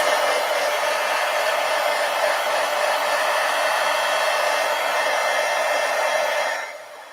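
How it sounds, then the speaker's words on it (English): Up close, a heat gun blows a steady, loud roar of hot air to dry paint on a mixed media collage art journal page, then cuts off near the end. "now I'm going to get my heat gun and dry this"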